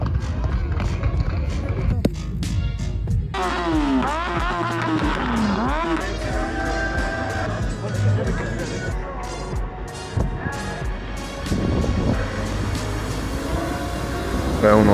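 A motorcycle does a burnout at a motorcycle rally in France. The engine revs in sweeping, rising and falling bursts as the tire squeals, with crowd voices and chatter throughout.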